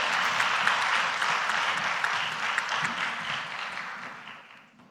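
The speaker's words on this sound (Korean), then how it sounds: "네, 다시 한번 뜨겁게 박수 부탁드립니다." Sustained audience applause fills a chapel service at a seminary university, dense and steady clapping that slowly fades toward the end, with no voices over it.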